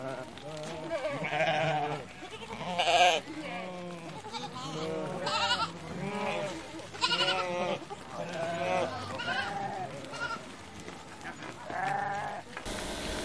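Sheep bleating on a farm, with wavering cries overlapping one another through most of the stretch and people talking among them.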